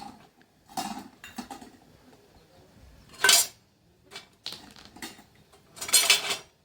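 Steel dishes and cutlery clink and clatter in a village home kitchen while utensils are sorted and set down, a few separate bright rattling bursts with quiet gaps, close by and with no talk.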